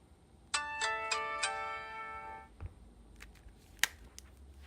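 A cell phone, Verizon-era handset, playing its power-on startup melody: four bright chiming notes in quick succession that ring out briefly, followed by a few soft clicks and taps of handling.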